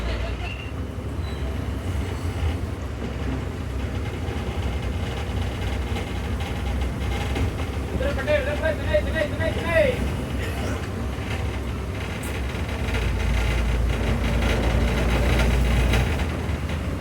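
TNSTC bus engine rumbling low and steady as it pulls away at departure in heavy rain, with road noise around it and someone talking over it.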